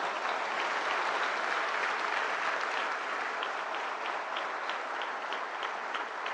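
A large ceremony audience keeps up a steady, even wash of applause for disabled award recipients, sustained at the same level for the whole stretch.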